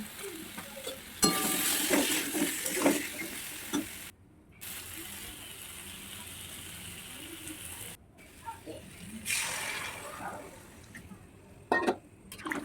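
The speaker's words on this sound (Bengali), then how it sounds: "ভালো করে লাল লাল করে ভেজে নেব।" Steady sizzling of potatoes frying in oil with turmeric and salt, with scraping stirs, broken by two short pauses, fairly close and moderately loud.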